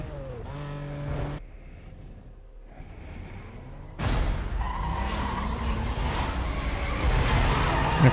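Porsche 911 Carrera S in a Need for Speed: Most Wanted (2005, PS2) race around Century Square, engine revving and tires skidding, a brief quiet gap, then a loud sustained drone with squeals through to the end.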